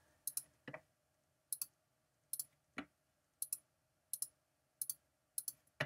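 Mouse clicks during Photoshop skin editing, sharp and close, mostly in quick pairs repeating every second or so, with a few duller single taps mixed in against a quiet background.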